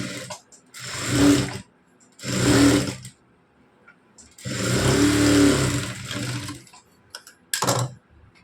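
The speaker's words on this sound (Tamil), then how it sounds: "இதுக்கு மேல் தையல் எட்ஜஸ்லேயே ஒரு தையல் ஒன்று நம்ம போட்டு எடுத்துக்கலாம்" A sewing machine stitches along the edge of a blouse in three separate loud bursts, with short pauses between runs and a few brief clicks near the end.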